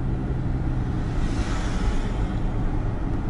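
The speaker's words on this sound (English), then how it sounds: "This FedEx truck's probably wishing I'd get out of his way." A FedEx delivery truck drives along a small-town street in Pleasanton, Kansas, heard as a steady, fairly close engine and road rumble that swells slightly midway, with no talk.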